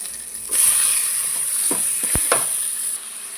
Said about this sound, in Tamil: தக்காளி நல்லா வதக்கலாம்